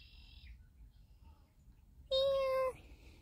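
A cat meows in a quiet rural setting, giving one clear, drawn-out meow after a fainter high call, with near silence around it.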